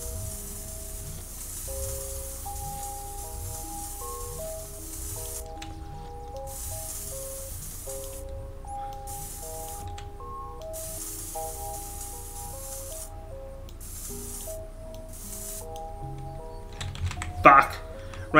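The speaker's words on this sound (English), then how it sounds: "It is spray paint." Spray-can painting in the video game SuchArt, soft hissing bursts low under steady music with tonal beeps, and a brief louder spray burst near the end.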